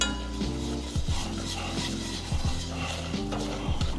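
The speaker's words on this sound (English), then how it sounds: "I know I'm using a spatula, you guys should probably be using a whisk." A spatula scrapes and stirs a flour roux in a pot, with steady rhythmic scraping and soft sizzling over a constant low hum, close and fairly loud.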